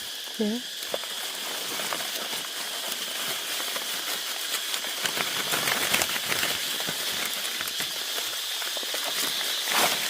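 Hail falls outdoors as a dense, continuous patter of crackling hits that keeps up steadily throughout, with a brief voice heard near the start.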